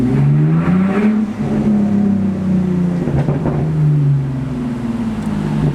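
A BMW Z4 engine revs hard in first and second gear through a village, a loud, close, rasping drone whose pitch climbs and falls as the throttle rises and eases across several pulls.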